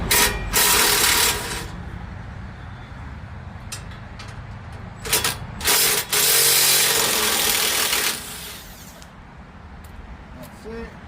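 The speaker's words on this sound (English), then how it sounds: "Now we're gonna remove these two side screws." Screws being removed from the muffler of an Ariens hydro tractor riding mower with a power tool, several loud bursts of whirring ratcheting, with someone talking between them.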